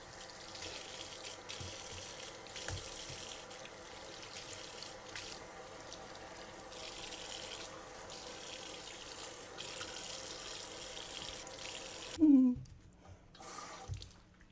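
Tap water runs steadily into a sink while a faucet is rinsed during cleaning, a continuous close splashing flow that cuts off near the end, followed by a squeak and a soft knock.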